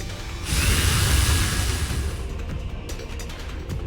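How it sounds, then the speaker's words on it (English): A drill whirs loudly in the video game Goddess of Victory: Nikke, a sustained high mechanical spin that swells in and then thins into a rattling, ratcheting grind, with no voices. "The drill continues to spin"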